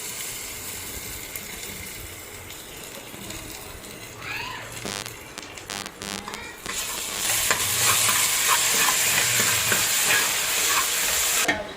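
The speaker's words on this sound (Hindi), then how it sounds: "अब हम अदरक लहसुन का पेस्ट डाल रहे हैं।" Ginger garlic paste frying in a pan for Amritsari chicken gravy, a steady sizzle that swells louder and hissier after a few seconds, with stirring scrapes and faint background noise.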